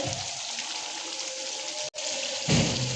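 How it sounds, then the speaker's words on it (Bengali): Gravy with mustard paste, for a pointed gourd dish in milk, bubbles steadily as it boils, a continuous wet hiss and burble heard close with no voices and a brief break near the end. "দেখুন সুন্দর টকবক করে ফুটছে।"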